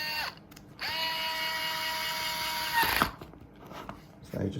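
A power screwdriver whirs steadily for about two seconds while driving motor plate screws, close and fairly loud, then winds down with a few faint clicks and handling noises.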